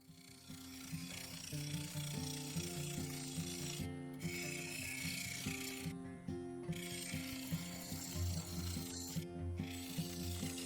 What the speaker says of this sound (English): For this I used a thin parting tool to cut a recess at each side of the inlay.